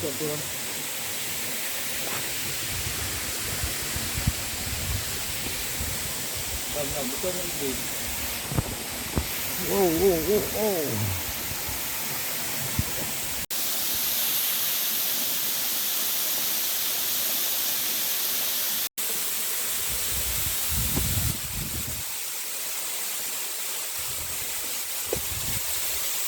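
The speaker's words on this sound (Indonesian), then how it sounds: "air terjun yang luar biasa" Steady broadband rushing of Soraya Waterfall, running at low water flow, fills the scene, with a person talking briefly partway through over the constant roar.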